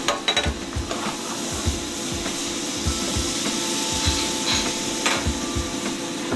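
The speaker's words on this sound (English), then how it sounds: "now in a hot pan, you're going to put in your butter" Butter sizzles in a hot pan while making chicken tikka masala: a steady, close frying hiss with small crackles and occasional scraping, no voices.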